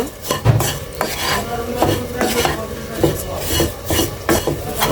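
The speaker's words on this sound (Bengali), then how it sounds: "গুঁড়া দুধটা দিয়ে আমি ভালোভাবে মিশাই নিব।" Powdered milk is stirred into a lachha barfi mixture, a close, rhythmic run of scraping and rubbing strokes with light clinks of a utensil against the pan.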